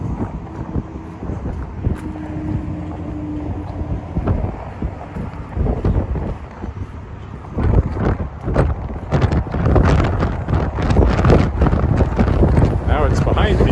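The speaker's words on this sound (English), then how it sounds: "And there's the wind you can probably hear." Strong wind gusts buffet the microphone outdoors along a creek after rain, a steady rushing roar that swells louder and rougher in the second half, with no talk over it.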